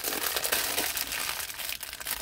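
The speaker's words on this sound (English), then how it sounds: "Sorry for the rustling." Crumpled paper packaging rustles and crinkles close by during a wreath-making craft session, a dense continuous crackle with no speech.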